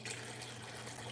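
Alkaline water pours steadily into a pitcher holding sliced cucumbers, a continuous soft splashing and trickling that runs unbroken for about a second at low volume, with no voices.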